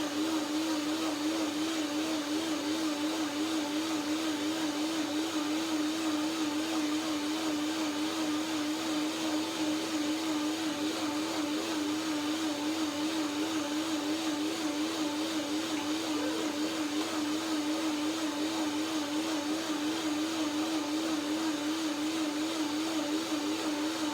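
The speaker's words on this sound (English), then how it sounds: "One more blender dance." A blender whirs continuously while mixing a cayenne basil sesame orange dressing with extra sesame seeds, a steady motor drone with a wavering pitch that runs unbroken throughout.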